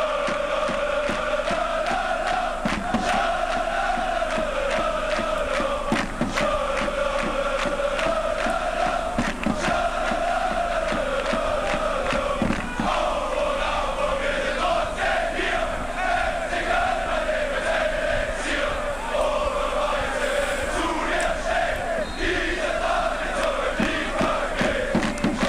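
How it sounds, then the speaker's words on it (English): A large crowd of Köln football ultras chants together in a stadium, a sustained, loud, rhythmic mass of voices rising and falling in unison with sharp accents scattered throughout. "A larger crowd."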